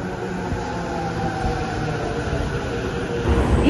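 A train in Japan rumbles steadily into a station platform, a continuous low rolling noise that swells slightly toward the end, no voices.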